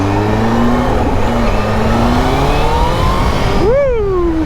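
A Kawasaki Z H2 supercharged motorcycle engine revs loudly and close, climbing steadily in pitch, then one sharp blip rises and falls near the end.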